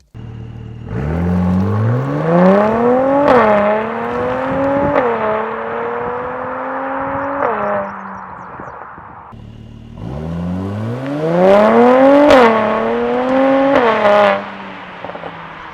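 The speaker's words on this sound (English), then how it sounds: "one of the best sounding V6 engines I've ever heard when you have the optional AMG performance exhaust" A Mercedes-AMG C43 V6 engine with optional AMG performance exhaust revs hard twice during launches through rising gear pulls, its loud raspy exhaust climbing in pitch with crackling shifts between each surge.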